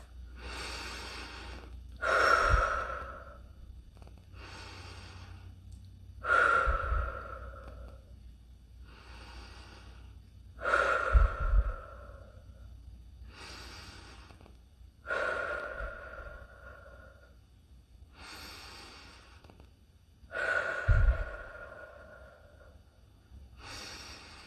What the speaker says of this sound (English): Take 6 deep breaths.